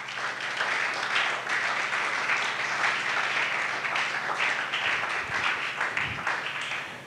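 A church congregation applauds in a steady, dense wave of clapping that stays loud for several seconds before thinning slightly near the end, with a few low thumps and faint voices mixed in.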